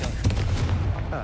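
A Confringo blasting spell from the game Hogwarts Legacy bursts in a short series of quick booming impacts, close and loud, with a voice speaking over them.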